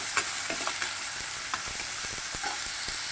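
Ingredients for a tuna fish curry fry over a high flame in a pan, with crisp stirring scrapes and clacks sounding above a steady, close sizzle.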